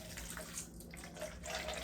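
Warm water is poured into a bowl for bread dough, a quiet, steady splashing stream over about two seconds with no talk.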